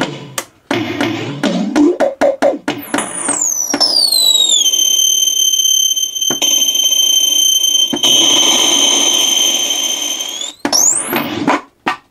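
Stock sounds from a Yamaha DD-6 drum machine: a rapid string of clicky percussive hits, a falling tom-like tone, then long sustained electronic pitch sweeps and whistling tones, loud and close with no voice.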